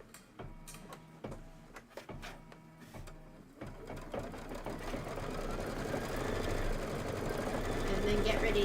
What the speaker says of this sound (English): Let's start stitching